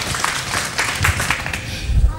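Children applaud on a children's television programme for Love Day, a busy patter of claps with voices mixed in underneath.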